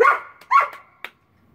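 A dog barks two quick times close by, followed by a short sharp yip, then falls silent.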